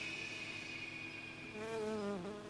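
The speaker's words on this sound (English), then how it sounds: "Ah, the bees." Bees in the video game Dead Rising drone in a steady, close buzzing hum that wavers in pitch near the end, with no talking.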